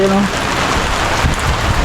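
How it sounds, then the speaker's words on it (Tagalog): Heavy rain pours down steadily outdoors during a typhoon, a dense, loud wash of drops that stays constant throughout, with a brief voice-like hum at the very start. "May ulan guys"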